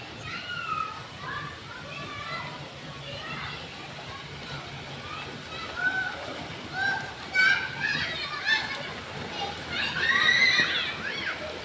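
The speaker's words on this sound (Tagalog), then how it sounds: "Manood tayo ng mga nagsuswimming." Children shout and chatter around a swimming pool at night with light water splashing in the background, voices rising and overlapping at moments.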